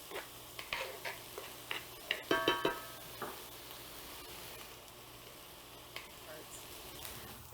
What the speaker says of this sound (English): Now you want to saute your onions until they become nice and translucent